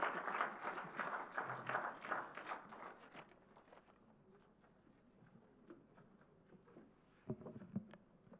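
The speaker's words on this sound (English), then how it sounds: "we now appreciate and applaud her current achievements" An audience at the inauguration of the Mysuru Literature Festival breaks into a burst of hand claps that thins over a few seconds into scattered, quieter claps, with a couple of late claps near the end.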